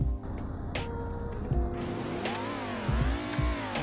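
Engine of an Impala car in the CDT video game, a steady in-game motor drone with rising and falling revving pitch sweeps and a few clunky thumps, fairly loud and continuous with no talking.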